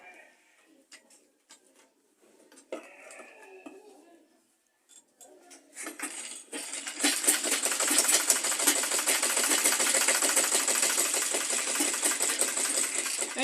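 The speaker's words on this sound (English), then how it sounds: "Then you place it on your machine and sew." A sewing machine stitches fabric for a bible cover, starting after several seconds of quiet handling and talk, then running in a close, steady, rapid mechanical whir.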